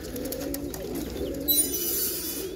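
Yellow roller pigeons coo close by, a few soft, low, rolling calls in quick succession, followed by a brief burst of higher rustling noise.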